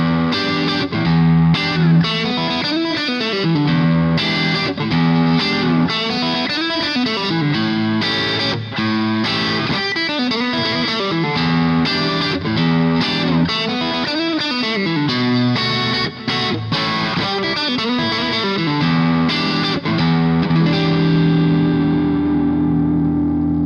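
Electric guitar played through a Boss Katana amp on its Single Coil Crunch patch, single-coil pickups giving a gritty overdrive; continuous loud chords and lead runs with a little reverb, no talking.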